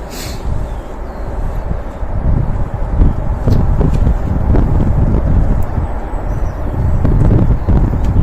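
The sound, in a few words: wind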